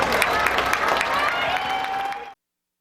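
Crowd applause for race drivers at a county fair demolition derby, steady clapping from the grandstand lasting about two seconds before cutting off abruptly, with a faint tonal hum underneath.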